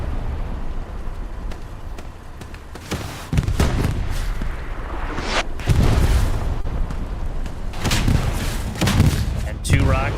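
Rocket impacts on a tank in the video game Hell Let Loose: several heavy booming blasts land over about ten seconds, with scattered crackling gunfire and battlefield noise between them and a voice talking underneath.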